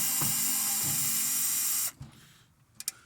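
A power drill whines steadily as it backs screws out of a microwave being stripped for scrap metal, then cuts off abruptly, followed by a few faint clicks and a sharp tap.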